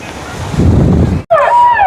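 Surf and gusting wind roar at Rushikonda Beach in Visakhapatnam, loud and buffeting against the microphone. A brief dropout is followed by a thin rising and falling whistle-like tone over the surf.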